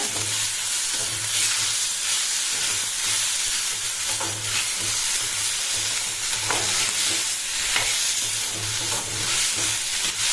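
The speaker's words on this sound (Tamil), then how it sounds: "காலிஃப்ளவர், பட்டாணி, பீன்ஸு இந்த எண்ணெயிலேயே கொஞ்சம் வதக்கலாங்க" Cauliflower, peas and beans sauté in oil in a pan for a vegetable sabzi, giving a dense continuous sizzle with occasional stirring scrapes, loud and close throughout with no talk.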